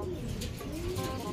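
Pigeons coo steadily in a loft during a pigeon racing session in Calumpit, Bulacan, the soft repeated calls close by over a constant low background.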